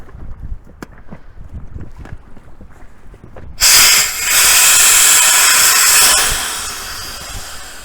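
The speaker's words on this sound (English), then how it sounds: "we're going to deflate the other air floor chamber and see what difference that makes" Air hisses loudly out through the valve of an inflatable boat's air floor chamber, a sudden steady rush that starts after a quieter stretch and lasts a few seconds before slowly fading.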